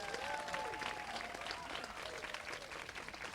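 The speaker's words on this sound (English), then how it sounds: "Let's give them another round of applause." A live-stream audience applauds steadily for about three seconds, dense clapping at an even level with a few faint voices mixed in.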